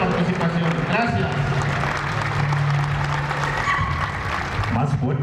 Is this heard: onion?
no